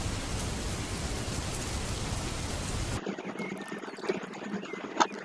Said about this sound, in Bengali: দেখতে পাচ্ছেন বৃষ্টি আওয়াজ পাচ্ছেন?